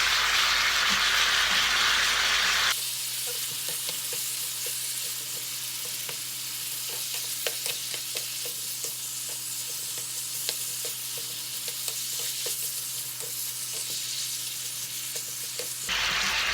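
Beef and vegetables stir-fry in oyster sauce in a hot pan: a steady, close hiss of sizzling that shifts and settles after a few seconds, with light clicks and pops throughout and no talking.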